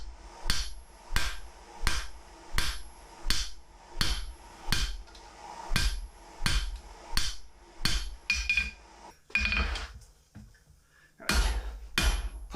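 Hammer forging the hinge boss of bent knee tongs made from sucker rod scrap, loud ringing blows struck at a steady rhythm of about one per second, with a brief pause near the end.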